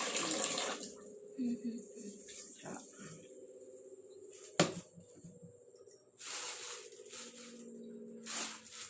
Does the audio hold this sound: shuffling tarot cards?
no